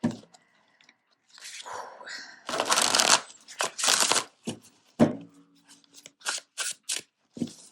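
Tarot cards are shuffled by hand close up in several quick riffling and slapping bursts separated by short pauses.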